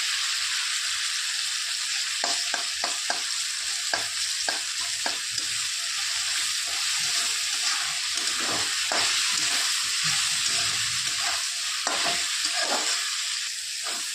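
Ginger-garlic paste fries in hot oil in a pan, giving a steady close sizzle broken by repeated scraping clicks of a spoon stirring, with no voices.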